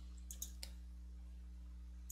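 A few sharp computer mouse clicks, two close together and another after a short pause, sound over a steady low electrical hum from a Synology DS918+ home server setup.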